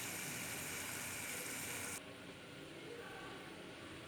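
A mixer grinder runs on chickpeas with a loud, steady whirring roar, then cuts to a noticeably quieter hum halfway through that continues to the end.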